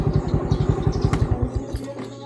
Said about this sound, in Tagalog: Naay motor ni Raymond basi na si Raymond diri.